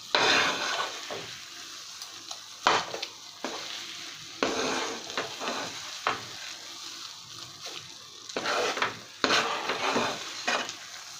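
A spoon stirs thick puran, cooked chana dal filling, in a pan, making repeated scraping strokes with a soft sizzle underneath, close and fairly quiet, with no voices.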